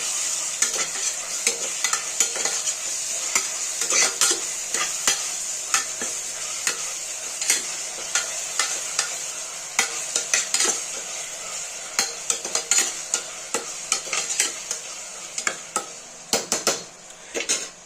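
Chopped onions sizzling in oil in a pan while being stirred for chettinad chicken biryani, a continuous frying hiss broken by frequent sharp clinks and scrapes of a spoon against the pan.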